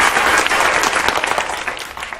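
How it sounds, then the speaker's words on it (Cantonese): A room of students gives a loud burst of applause, dense overlapping clapping close around that tapers off slightly toward the end. "大家俾掌聲先。"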